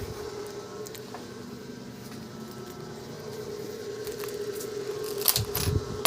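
Loose coins jingle and clink as they are handled and sorted, a steady metallic rattle that grows louder and busier toward the end, with sharp close clatters near the finish.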